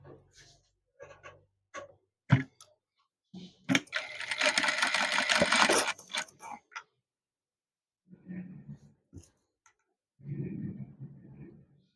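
A sewing machine runs a steady stitching burst of about two seconds along the folded edge of saree or blouse fabric. Brief clicks come before it, and a person speaks softly afterward.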